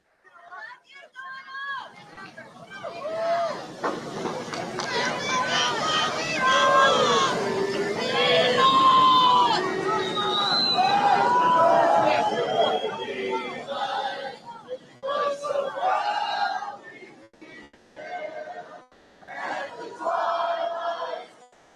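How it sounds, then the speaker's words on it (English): A large outdoor rally crowd in Butler, Pennsylvania chants and shouts in support, a dense roar of many voices with rhythmic swells that rises, peaks and then breaks into choppier bursts. "Crowd is chanting and shouting at Trump words of support"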